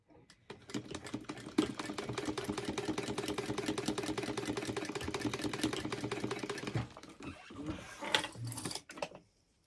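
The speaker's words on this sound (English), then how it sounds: "And now we're going to sew this up at 1/4 inch." A sewing machine stitching a 1/4 inch seam in fabric, a fast steady mechanical whirr with rapid needle clatter running for several seconds, then a few short stop-start bursts before it halts, close and with no talk.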